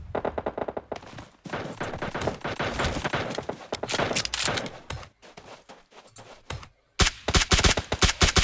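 Rapid gunfire from several weapons, including assault rifles and snipers, crackles in dense bursts during a shooter video game match, loud and continuous with brief gaps.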